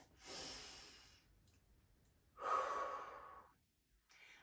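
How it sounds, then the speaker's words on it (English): Two long, airy breaths drawn in slowly and deliberately during a Pilates workout, close to the microphone and soft, each swelling and fading over about a second with a short pause between. "I'd like you to take a deep inhale here."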